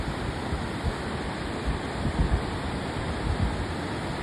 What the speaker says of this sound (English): So what's cool is that this is the only rapids they got.